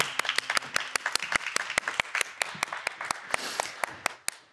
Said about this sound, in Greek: Και θα τη χειροκροτήσουμε τη Μαργαρίτα μα που φεύγει.